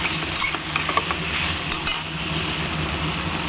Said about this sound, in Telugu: పసుపు పొడి వేసేసి బాగా వేయించుకోవాలి